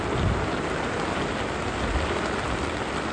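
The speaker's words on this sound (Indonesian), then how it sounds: "Ini kisaran jam 1 malam dan hujan turun badai." Heavy nighttime rainstorm drumming on a tent while camping on a mountain, a constant close, dense patter without pause and no voices.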